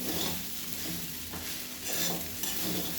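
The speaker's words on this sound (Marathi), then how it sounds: "अशा प्रकारे हलवायचं, नाहीतर करपते खाली." Sabudana khichdi being stirred in a hot pan, with a steady scraping stir over a soft continuous sizzle, close and alone with no talking.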